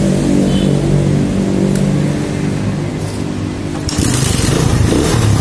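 A Suzuki Satria FU motorcycle with a carburetor that will not hold idle starts up and runs nearby, a loud, steady engine drone that surges briefly near the end.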